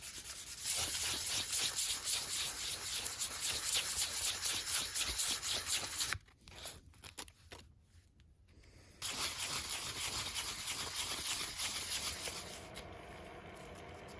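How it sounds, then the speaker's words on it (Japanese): Sandpaper, folded small, rubs rhythmically inside the bowl of a carved wooden spoon in quick back-and-forth strokes, close and steady, with a short pause in the middle before the scraping resumes. "スプーンの中は小さく畳んだ紙やすりで削っていきます。"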